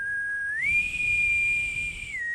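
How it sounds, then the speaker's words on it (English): A boatswain's whistle sounds one thin, steady high note that lifts in pitch, holds, then dips at the end. It is faint and alone against quiet background hiss. "The boatswain whistle blew the next day, and the crews mustered on the deck."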